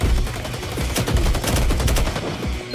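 A shooter video game fills with dense, continuous gunfire, overlapping rapid shots that stay loud and close throughout with no pause.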